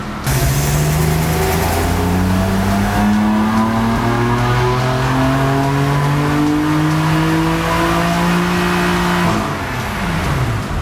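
A BMW F80 M3 fitted with an Eventuri intake accelerating on a dyno run, a loud continuous engine roar rising steadily in pitch through the gears, then backing off at the end.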